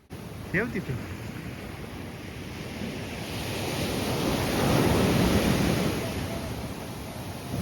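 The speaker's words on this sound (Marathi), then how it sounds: "तर हा आहे क्रिस्टल बे बीच" Ocean waves wash steadily onto Crystal Bay beach on Nusa Penida, swelling louder toward the middle, with wind buffeting the microphone and a brief voice near the start.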